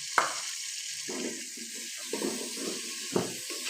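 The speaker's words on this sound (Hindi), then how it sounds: "पहले इसको फ्राई करती हूँ" Onions and chicken frying in a pot for a chicken and potato pulao, giving a steady soft sizzle broken by a few sharp clanks of stirring.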